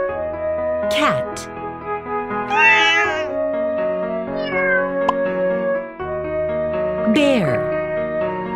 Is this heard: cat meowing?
yes